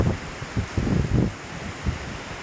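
Heavy monsoon rain driven by strong wind along the Alappuzha beachfront in Kerala, a dense continuous rush with repeated low, close gust thumps of wind striking the microphone.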